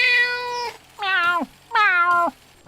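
Gary the snail from the SpongeBob cartoon gives three clear, drawn-out cat-like meows in a steady rhythm, loud and close with no talk over them.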